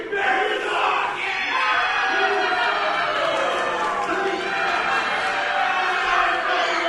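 Loud, dense crowd at a wrestling event roars and cheers continuously, a sustained wall of excited shouting that holds steady throughout with no letup.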